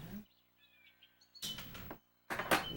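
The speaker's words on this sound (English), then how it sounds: "I like the bird noises" Birds chirp faintly in the Wii game Story Hour: Adventures (2008), a few thin, high calls in a quiet stretch between louder bursts of noise.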